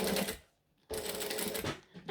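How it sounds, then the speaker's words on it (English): A sewing machine stitches a seam in two short bursts of rapid mechanical whirring separated by a brief silent pause, close and moderately loud. "So now I'm going to sew them down so that it's flatter and easier to work with"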